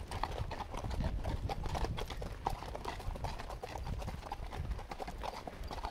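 Horse hooves clip-clop steadily on a mountain trail during a trail ride, heard close and continuous. Rustling and wind-like noise run underneath.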